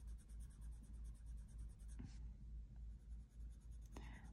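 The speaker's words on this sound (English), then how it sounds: "just with the tip of the pencil" A coloured pencil tip blends softly across paper in light, feathered strokes, a faint continuous scratchy rustle with a couple of slightly sharper scrapes, very quiet and close.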